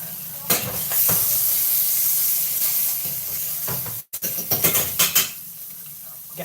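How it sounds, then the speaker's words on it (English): Butter sizzling in a pan in a home kitchen, a steady bright hiss broken by a few clinks of utensils against the cookware and a brief gap near the end. "got to let that butter saute."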